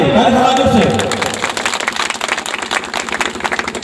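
A loud voice fades out as an audience at a tribal community gathering breaks into rapid, rhythmic clapping that continues at a steady pace to the end.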